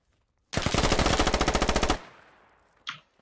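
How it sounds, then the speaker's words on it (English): Automatic rifle fire in the tactical shooter game Squad, a loud rapid burst of about twenty shots over roughly a second and a half, fading into an echoing tail and ending with one last short report. "I crouched behind the wall, and I'm shooting the wall."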